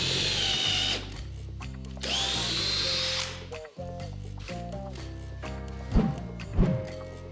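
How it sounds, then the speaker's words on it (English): A BAHCO 12V compact drill/driver boring with a 5mm bit, its motor whining steadily in two bursts, then slowing with a brief pause and a few sharp clicks and knocks as the drilling ends, close and clear. "The first drill is the 12V. We used 5mm bit"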